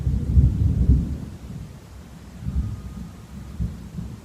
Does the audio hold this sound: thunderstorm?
yes